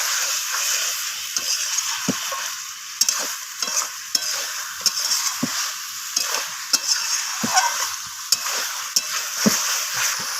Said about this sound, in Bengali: তো চিকেনটা একটু সময় নিয়ে কষাতে হবে